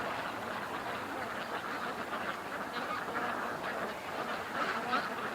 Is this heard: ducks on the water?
yes